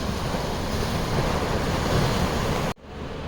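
Loud, steady ocean surf on the north coast of Tenerife, near the Anaga rural park, with a continuous roar of breaking waves and wind noise on the microphone that cuts off abruptly near the end.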